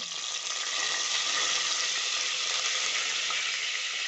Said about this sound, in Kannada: ಸಾಸಿವೆ ಪಟಪಟ ಅಂತ ಹುಟ್ಟಿದ ಮೇಲೆ ಒಗ್ಗರಣೆ ಸೊಪ್ಪು ಹಾಕಬೇಕು